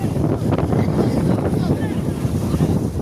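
Strong wind buffets the microphone outdoors during fishing by the water, a constant loud rushing roar with gusty low rumble throughout.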